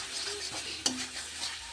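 Boiled ghugni, a pea curry with potatoes, goes into a frying pan of fried spices and is stirred, giving a soft sizzle, scraping, and one sharp metallic clank midway.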